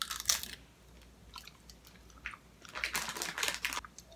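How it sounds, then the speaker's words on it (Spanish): Diana brand milk caramel candy being chewed close up, with soft, sticky, wet mouth sounds and occasional crunchy bites in an irregular rhythm, fairly quiet and with no talk. "Súper masticable, súper chewy. Que se te pega como a los dientes."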